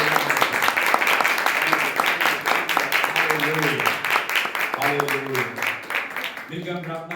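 A church congregation claps in praise after a Hindi sermon, rhythmic applause running throughout while a preacher's voice continues speaking and partly singing over it, the clapping close and fairly loud.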